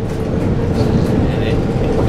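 Steady low rumble of a passenger train in motion, heard from inside a carriage on the way into the city, with a continuous rolling drone and faint rattles throughout and no clear voices over it.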